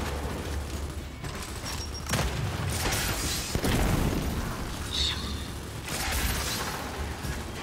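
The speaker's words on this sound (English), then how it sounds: "Frag out!" Gears 5 combat with a frag grenade blast among repeated booms and bursts of gunfire, a rumbling chaotic mix of explosions and weapon noise that swells and fades over several seconds.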